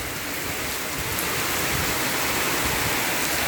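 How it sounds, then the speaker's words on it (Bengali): Heavy rain pours down in a dense, loud, unbroken hiss of drops striking surfaces nearby, with no voices over it. "এই যে বৃষ্টি আর বৃষ্টি, আল্লাহর অশেষ রহমত।"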